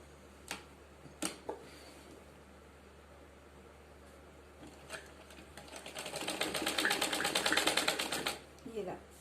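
A sewing machine stitching a suit runs in a fast, even burst of needle clatter through the middle and end, with scattered sharp clicks and taps before it, close and fairly loud.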